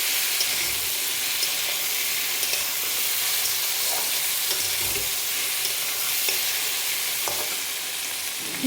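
Frying for an egg curry in a pan, a loud, dense and continuous sizzle that holds steady throughout, heard up close with no voices.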